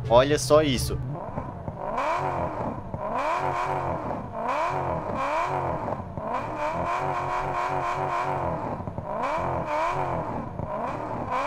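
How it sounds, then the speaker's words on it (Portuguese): A V8 engine in Car Parking Multiplayer revs repeatedly in rising and falling surges, a deep throaty roar, with a brief spoken remark at the start. "É, cara, já vem com o barulhão de V8."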